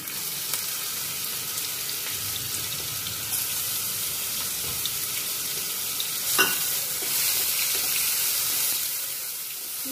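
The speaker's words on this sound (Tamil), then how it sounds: "கொஞ்சம் பச்சை வாசம் போற வரைக்கும் நல்லா வதக்கிக்கலாம்." A ground paste of shallots and cumin sautéing in hot oil in a pan for egg curry, giving a continuous close sizzle with occasional scraping of a stirring utensil.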